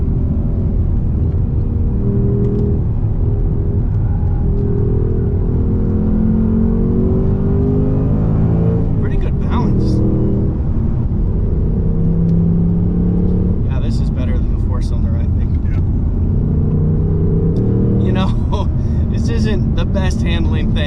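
A 2024 Ford Mustang GT's V8 engine rumbles and accelerates steadily from inside the cabin, a loud continuous low drone with rising pitch, running under near-constant talk throughout.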